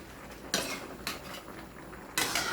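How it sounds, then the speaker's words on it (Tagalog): Chicken adobo stirred in a metal pot, with three clanking scrapes of a spoon against the pan over a low, continuous background. "Tapos haluin natin."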